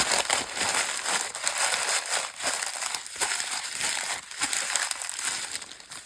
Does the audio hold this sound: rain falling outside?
no